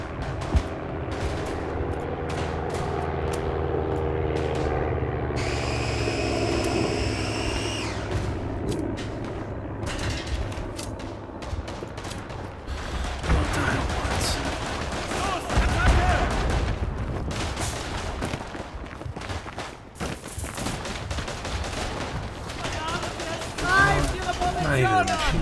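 Machine gun bursts and scattered rifle fire ring out in the Verdun video game, with a tonal sweep early on, then dense rapid shots and booms under a running voice.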